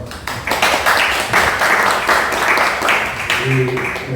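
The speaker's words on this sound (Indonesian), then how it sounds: "Tepuk tangan dulu dong." An audience at a Jakarta political gathering bursts into applause, a dense wash of clapping that holds steady for several seconds with a voice talking over it.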